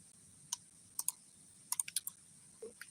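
A computer mouse clicks in short, crisp bursts, some single and some in quick doubles, close up against a faint steady hum.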